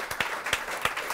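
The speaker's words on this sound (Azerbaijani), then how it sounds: "Bəli, alqışlayaq." Studio audience applause on an Azerbaijani comedy talk show: a short, steady burst of clapping from the crowd, fairly loud and close, with no talk over it.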